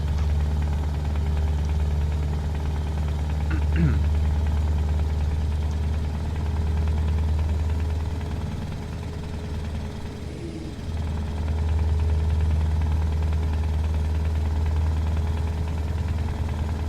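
A low, steady Scania Longline truck engine rumbles at idle throughout in the video game Euro Truck Simulator 2, with a faint brief clunk partway through and a slight dip in loudness midway.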